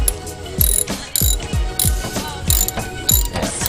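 Ratchet wrench tightening the sway bar end link lock nut on a Dodge Viper GTS ACR, a close run of quick, rhythmic metallic clicks with short pauses.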